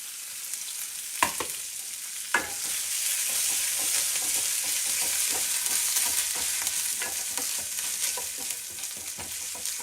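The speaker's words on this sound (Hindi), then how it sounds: "मेरी सब्जी भुन गई है, सॉरी मसाले भुन गए हैं।" Cumin, coriander seeds and fennel with chopped ginger and green chili fry in a hot pan, a steady close sizzle with a few sharp stirring knocks, no talk over it.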